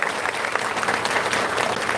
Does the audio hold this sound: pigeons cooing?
no